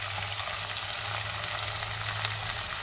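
Onion paste sautés in oil with a dense, even hiss of frying, close and continuous, with a faint low hum underneath and no voices.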